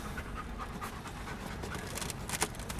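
A large dog pants close by in quick, steady, breathy bursts that run through the whole stretch, with no talking.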